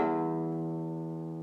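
A deep, low-pitched musical note, rich in harmonics, struck once as a music theory example of low pitch and ringing steadily with a slow decay; no talking.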